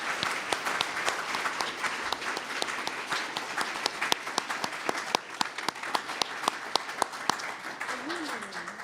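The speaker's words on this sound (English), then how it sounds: "Why don't we give the candidates a nice round of applause?" Audience applause for school board candidates at the close of a forum, a steady wash of many hands clapping at moderate distance, sustained without a break.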